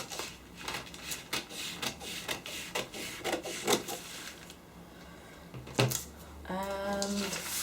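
Scissors cut a paper sewing pattern along a drafted line at the shoulder, giving a steady run of close, soft crisp snips and rasping paper noise. A brief thump comes near the end.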